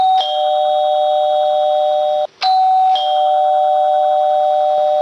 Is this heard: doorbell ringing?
yes